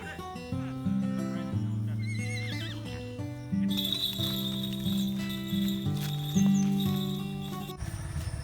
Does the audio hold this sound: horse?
yes